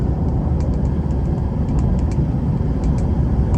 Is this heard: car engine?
yes